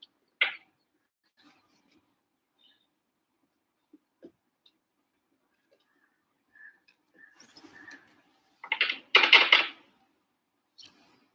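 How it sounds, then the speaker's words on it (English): A tarot card deck being shuffled by hand in a quiet room: a few soft ticks, then several short, crisp riffling bursts near the end, with no voices. "Let me shuffle, finish shuffling,"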